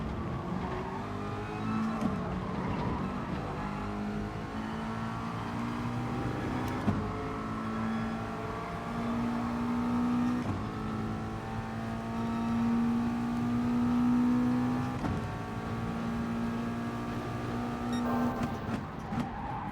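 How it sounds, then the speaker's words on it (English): A race car in Gran Turismo Sport accelerates through seventh gear, its engine note climbing steadily in a sustained rising drone with gear tone stepping up, loud and continuous with no talk. "So watch the 7th gear acceleration now."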